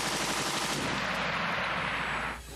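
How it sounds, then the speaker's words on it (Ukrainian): Rapid automatic gunfire from a remote-controlled ground robot serving as a mobile firing point in wartime Ukraine, a loud sustained burst of shots for about two and a half seconds before it cuts off. "Постріл!"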